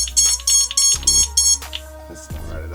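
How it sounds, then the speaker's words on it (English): A loud, faulty electronic buzzer on a Dark Mut Mk3 build sounds in a rapid series of harsh, pulsing beeps, repeating several times with short gaps, close and alone. "There's definitely something wrong with the buzzer."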